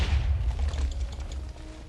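Video game pirate cannon fire: deep booming shots with a sharp onset, a short volley of heavy reports under a rumbling low end, fading toward the end.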